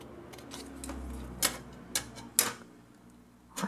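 Scissors snipping paper for a butterfly birthday card, a few sharp separate cuts spaced about half a second apart over a quiet background, close and fairly faint.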